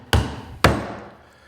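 A Vaughan 20-ounce all-steel claw hammer strikes a small pin twice, two sharp close metallic blows about half a second apart, each ringing briefly before fading out.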